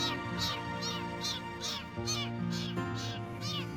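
A small stray kitten found on the way home from fishing gives a rapid run of high, insistent meows, close and loud, one after another with short gaps, over a low steady background hum.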